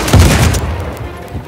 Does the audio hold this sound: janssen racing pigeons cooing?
no